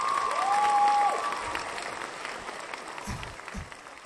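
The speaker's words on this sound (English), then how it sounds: "Give him a round of applause." Audience applause at a live talent show semi-final in Hartford, a broad wash of clapping that is loudest at first and then slowly thins out, with a few low thumps near the end.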